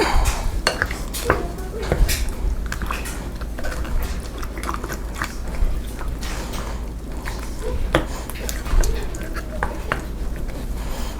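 A spoon stirs cornstarch into apple pie filling in a bowl, making repeated close clinks and scrapes against the dish in an irregular rhythm, with soft wet mixing noise between the knocks.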